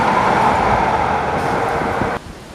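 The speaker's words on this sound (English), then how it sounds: "you can still hear the roar of metro trains between Jesmond and West Jesmond metro stations." Metro trains roar along the line between Jesmond and West Jesmond stations, a steady broad rumble heard from near a wooded river valley that drops away abruptly near the end.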